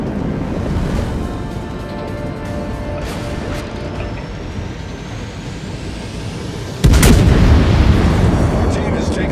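Naval artillery rumbles in the World of Warships game over a constant windy, surf-like roar, and one heavy, close gun blast booms out about two-thirds of the way through and keeps ringing.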